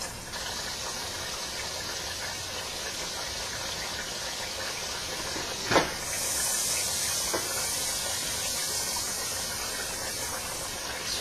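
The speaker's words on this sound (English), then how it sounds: "here I'm going to add the butter to the saute pan and let that all melt" Butter melting in a sauté pan makes a soft, steady sizzling hiss that runs continuously and quietly, growing slightly fuller partway through, with no voices.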